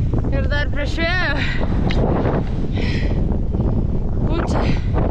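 Strong wind roars against the microphone on an Icelandic hillside, a dense, steady rush that never lets up, with voices talking over it.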